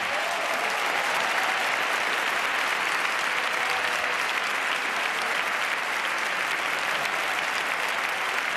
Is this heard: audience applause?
yes